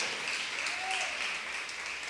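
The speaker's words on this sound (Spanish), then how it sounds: "Aplausos a los sacerdotes." Applause for the priests during a church service, a soft, distant patter of many hands clapping that holds steady for a couple of seconds.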